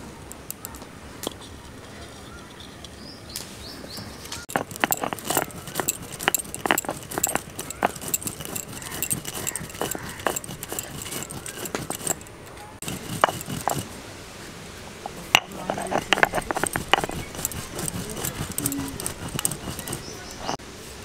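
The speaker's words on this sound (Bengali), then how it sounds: "এবার এটাকে গুঁড়ো করে নেব।" Fried panch phoron and dried red chillies for green mango chutney are ground with a run of sharp, irregular knocks and scrapes, fairly close and steady, with a busier stretch near the end.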